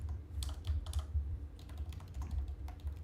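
Computer keyboard typing, a steady run of quick, close clicks and key taps going on for a few seconds with no talking.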